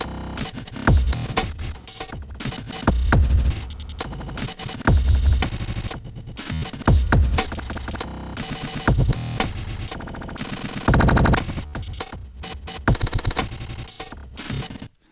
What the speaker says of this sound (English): So loads of real nice kind of glitchy fills there.